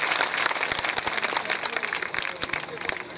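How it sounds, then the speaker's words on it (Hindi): Audience applause at a community appreciation ceremony in an Indian village, steady dense clapping throughout with some voices mixed in underneath. "जोरदार ताली उनका स्वागत किया जाए।"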